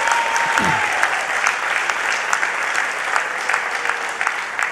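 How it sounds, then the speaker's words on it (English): An audience at a political party event in Chaguanas applauds steadily, dense clapping sustained throughout at even loudness, with a faint voice briefly audible early on. "I want you to give her a round of applause."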